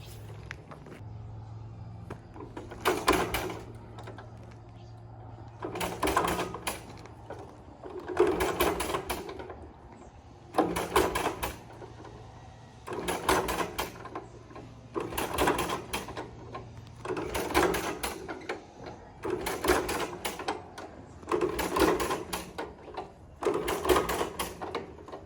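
A Farmall F-12 tractor engine is cranked over with the choke on, giving about nine evenly spaced, loud mechanical bursts roughly every two and a half seconds over a low steady hum, with no talk.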